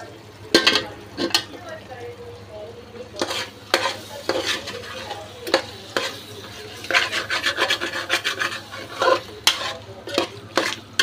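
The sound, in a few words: stirring prawn gravy with onion and tomato in a pan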